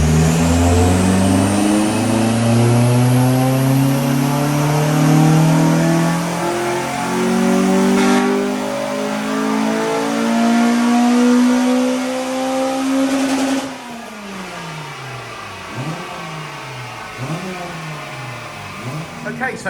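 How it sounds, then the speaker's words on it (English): A stock Honda Civic EP3 Type R on its stock ECU revs hard on a dyno, climbing through the gears with a loud rising engine note. Near the end it drops and blips down through a few falling sweeps. "stock run on the stock ECU before Richard puts the K Pro in, and it's made 209 brake horsepower"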